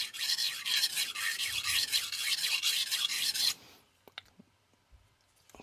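Dull knife stroked on a 400 grit sintered diamond stone, a rapid run of bright, gritty rasping strokes in steady rhythm, close and fairly loud, then stopping abruptly into near quiet with a few faint clicks.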